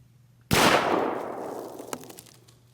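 A single sharp .223 rifle shot with a Barnes 36 grain Varmint Grenade bullet striking a cantaloupe, a loud sudden crack after near silence that rolls away in a long echoing decay.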